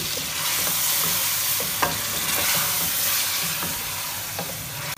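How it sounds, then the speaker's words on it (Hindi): Beef pieces fry with blended garlic-ginger paste and green chilies for haleem, producing a loud, continuous sizzle close by, with occasional stirring scrapes and a sharp knock before it stops abruptly. "और अब इसके साथ हमने अच्छी तरह से करनी है गोश्त की भुनाई"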